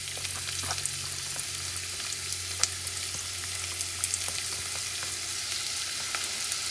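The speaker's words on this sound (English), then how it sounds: "I'm going to saute this onion" A quarter of an onion sautés in about a teaspoon of oil for a spicy beef stew, giving a soft, even sizzle with occasional faint ticks and stirs, close by and without speech.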